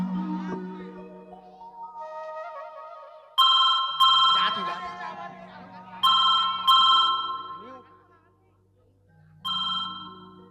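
A telephone rings in bursts while a call is placed, its sharp electronic tones repeating several times and clear over a musical background.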